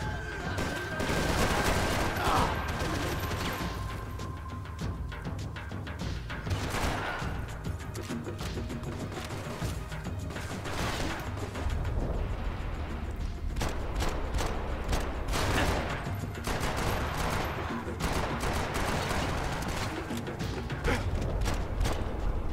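Continuous, dense gunfire from a Max Payne 3 firefight, with rapid shots, bursts and crashing impacts layered over one another at steady high loudness for over twenty seconds, no pauses.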